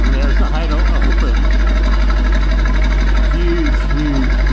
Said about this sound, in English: There's the idle open.